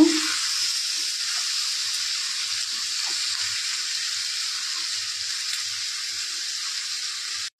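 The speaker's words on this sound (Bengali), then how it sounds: "কাশ্মীরের লঙ্কা, টমেটো, নাড়াচাড়া করে নেবো একটু।" Kashmiri chilli and tomato frying in a pan while being stirred, a steady bright sizzling hiss that holds evenly throughout and cuts off abruptly at the end.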